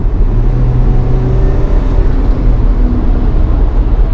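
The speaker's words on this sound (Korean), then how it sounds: "가속 페달을 꾹 밟으니까 킥다운을 하면은 이렇게 확 하고 이렇게 부스트가 차는데 조금 좀 시간이 걸려요" A Ssangyong Korando C 2.2 diesel 4WD SUV accelerates hard on kickdown, a steady low engine drone and road roar building as boost comes in, heard from inside the cabin with no talk.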